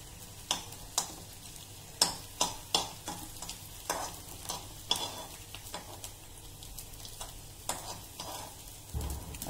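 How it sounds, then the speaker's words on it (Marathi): Slices of sabudana and potato vada shallow-fry in a pan with a continuous sizzle, broken by frequent light taps and scrapes of a spatula at an uneven rhythm. "अशा प्रकारे सर्व स्लाइस आपण फ्राय करून घेऊया"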